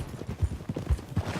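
Horse hooves clip-clopping in Red Dead Redemption 2, a steady rhythmic run of close, thudding footfalls with no talking.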